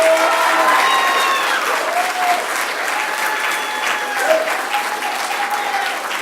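Sustained applause fills a board meeting room, steady and fairly loud throughout, with a few tonal voices or whistles rising faintly above the clapping.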